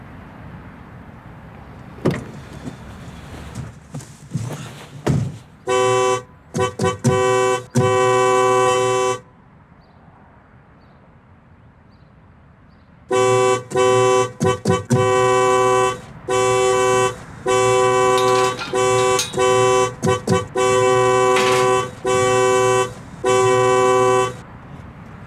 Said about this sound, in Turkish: Basıp duruyorsun kornaya, insan yaşıyor burada ya.